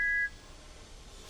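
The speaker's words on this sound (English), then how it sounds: "Then in the distance, he heard Stanley's whistle from the track below." A cartoon steam engine's whistle sounds faintly from a distance, a brief steady tone at the start and again at the very end over a soft background hum.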